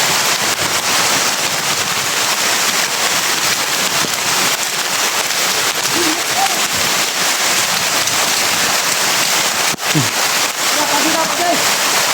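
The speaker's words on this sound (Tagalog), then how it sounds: "lakas ang ulan guys" Heavy rain pours in a loud, dense, unbroken roar for the whole stretch, with faint voices under it.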